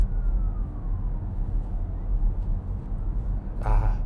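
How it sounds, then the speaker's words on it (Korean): An ambulance siren wails in traffic at an intersection, with a sweeping tone fading in under steady road rumble and a sharper burst of siren near the end, heard from inside a car. "어, 앰뷸런스 차량."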